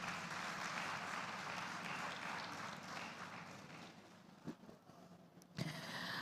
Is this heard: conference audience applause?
yes